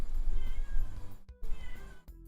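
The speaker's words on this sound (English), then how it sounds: "My cat's being very, very whiny right now. Wants to go out" A whiny indoor cat meows repeatedly, asking to go outside, with several plaintive calls close by, broken by short silent gaps.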